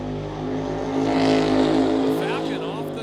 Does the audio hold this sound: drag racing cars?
yes